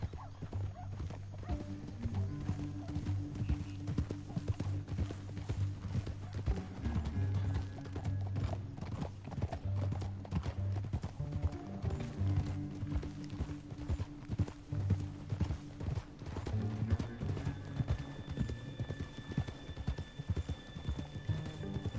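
Steady clip-clop of horse hooves trotting along, with occasional whinnies and a busy mix of other sounds throughout.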